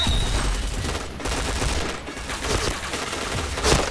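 Rapid bursts of gunfire in a shooter video game, dense and continuous at close range, with a few sharper shots standing out.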